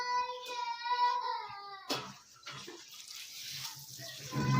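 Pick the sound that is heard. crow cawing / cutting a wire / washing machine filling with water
washing machine filling with water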